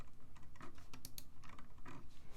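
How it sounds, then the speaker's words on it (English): Keys clatter in an uneven, steady run of typing on a computer keyboard, quiet and close, with no voices. "Okay. I'm typing. Key down, right? So I'm just typing"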